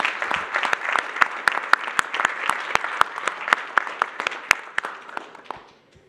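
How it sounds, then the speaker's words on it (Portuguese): Conference audience applause for student organizers at the Brazil Conference 2022, a steady patter of many hands with sharp individual claps standing out near the microphone, sustained for about five seconds before trailing off. "eu queria pedir uma salva de palmas para os alunos que organizaram esse evento espetacular para o Brasil"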